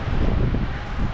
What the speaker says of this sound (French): là il y a un petit vent